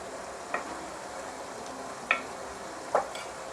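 Mutton frying in masala for biryani gives off a low, even sizzle, broken by three sharp clicks of a spoon against the pot spaced about a second apart, with no talk.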